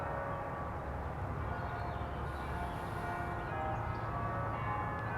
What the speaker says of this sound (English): the moment we come to this statue, the church bells go